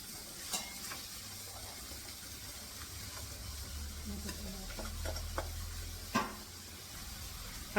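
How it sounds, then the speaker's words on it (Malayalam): Spinach thoran being stirred in a hot pan, with a steady low sizzle of frying greens and a few scraping clicks of the spoon against the pan, heard up close and alone. "ചീര ഇതിൻ്റെ അകത്തോട്ട് കുറച്ച് ഇട്ട് നല്ലതായിട്ടൊന്ന് യോജിപ്പിച്ച്"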